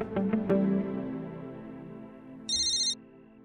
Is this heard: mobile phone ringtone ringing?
yes